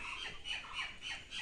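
Birds squawk in a rural village setting, a series of harsh, shrill calls repeating closely over faint background noise, with no talk.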